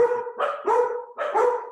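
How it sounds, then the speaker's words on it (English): A dog barks three times at the doorbell in quick, uneven succession, fairly close and moderately loud, with no talking. "loves barking at the doorbell"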